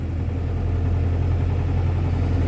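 A tractor engine runs steadily at close range, a deep continuous idling rumble with a low throb that holds even and unbroken, with no voices over it.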